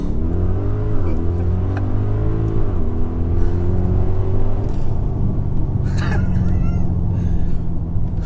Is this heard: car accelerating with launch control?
yes